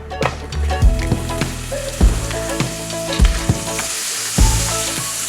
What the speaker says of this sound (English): Once the pan is warm, put some olive oil and 1 spoon of butter.